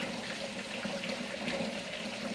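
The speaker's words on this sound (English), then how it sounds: "So we're going to take some water. We're going to fill it up." Water running into a container while preparing Salisbury steak, a continuous hissing, splashing pour heard up close at a steady level with no talk.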